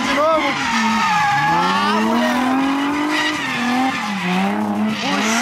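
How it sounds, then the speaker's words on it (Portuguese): A car drifts hard, its tires letting out a loud, sustained squeal that wavers up and down in pitch for several seconds over engine noise, with a brief exclamation from a man. "Pegar o carro dele e sair fazendo drift"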